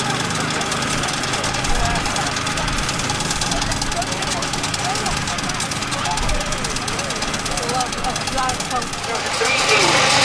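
A 4.5-inch scale drawbar steam tractor runs at a steam rally in Sheffield, its engine chugging in a steady rhythmic beat close by, with crowd and rally background noise throughout.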